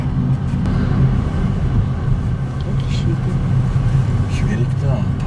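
Car rolling through a Brazilian town, a steady low engine rumble and road noise close in throughout while someone talks over it.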